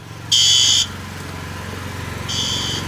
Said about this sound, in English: So that's got all the fire alarm looking pretty good out here.